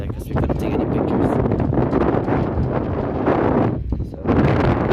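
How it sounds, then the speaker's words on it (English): Strong outdoor wind buffets the microphone in a steady, roaring rumble that stays loud throughout, with a brief lull near the end before the gusts return. "yeah, it's so windy"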